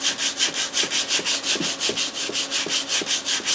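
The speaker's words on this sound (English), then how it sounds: "I'm cutting this down with some 36 grit, and it's coming out nice." Coarse 36-grit sandpaper worked by hand over a flat part of a homemade water-cooled Briggs engine, steady back-and-forth strokes about three per second, close and fairly loud with no talking.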